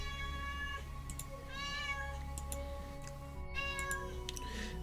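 A pet cat meows repeatedly and insistently at a door, wanting to be let in; several drawn-out, fairly loud meows sound over a steady low electrical hum, with faint clicks between them and no talk.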